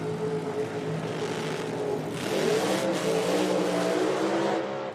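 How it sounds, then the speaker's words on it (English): A nitro drag racing car with an Alan Johnson Hemi engine at IHRA Outlaw Nitro time trials, a loud sustained engine roar that rises in pitch partway through with no talking. "that thing's got a big old Alan Johnson Hemi sitting in it"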